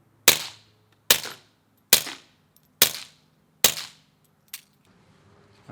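A P22 pistol fires through a 3D printed suppressor with 8-inch length: five sharp, loud cracks come at an even, roughly one-second pace, each trailing a short decay, followed by a fainter click.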